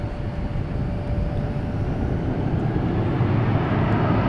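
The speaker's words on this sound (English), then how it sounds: "Next departure, American 555, an A321 from DFW to El Paso." An American Airlines A321 departing DFW gives a steady, moderately loud jet roar that swells slightly over a few seconds, heard at a distance with no talk.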